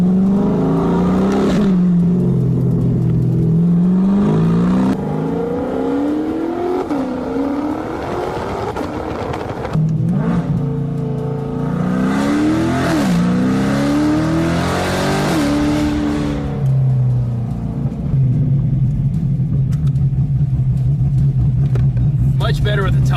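A cammed Corvette C8 with its roof down idles with a loping, choppy rhythm, then revs and accelerates several times in loud rising sweeps before settling back to a lumpy idle; people talk over the engine.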